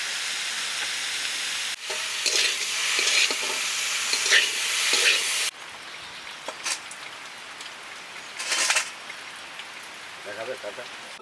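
Banana flower goes into a pan of potatoes and is stir-fried, giving a continuous sizzle broken by spoon scrapes and taps, louder at first and then softer.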